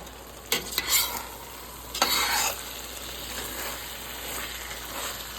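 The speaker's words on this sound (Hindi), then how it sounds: "मसाला जब रेडी हो गया तो मैंने भिंडी डाल दी। बस 1 आध मिनट में पकाऊंगी।" Okra (bhindi) cooking in spice masala in a pan, a soft steady sizzle with a couple of brief scraping stirs near the start, close by and without talking.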